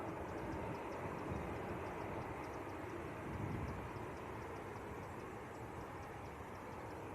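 A Ryanair airliner taxiing onto a stand at Leeds Bradford Airport: a steady, broad jet-engine roar held at a constant level throughout, with a faint high whine riding above it.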